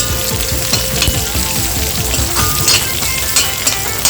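Curry leaves crackle and spit loudly in hot oil for a clam meat roast, a dense, continuous sizzle with sharp popping bursts throughout and no talking.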